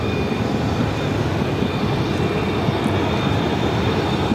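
A jet airplane landing at Phoenix airport, a loud steady roar of engine and rushing air with a faint high whine, constant and unbroken.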